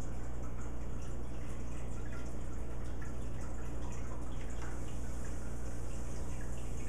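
A small homebrew aeration pump runs submerged in a sanitizer bucket, a steady dense bubbling and gurgling with constant drips and a low hum, close and unchanging throughout.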